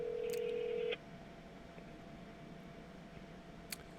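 A phone held up outdoors sounds a single steady ringback tone for about a second, then only quiet background hiss with a faint click near the end.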